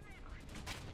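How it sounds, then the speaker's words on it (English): Gunfire striking a Ratel 20 armoured vehicle in War Thunder, a dense rattle of rapid impacts that fills the whole second, loud and close with a brief voice underneath. "I'm being shot by something"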